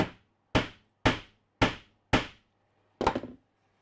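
A hammer drives a wooden plug into the seat of a Lutyens garden bench: five evenly spaced, sharp, close knocks with short decays, then a final rougher, rattling blow. No voices.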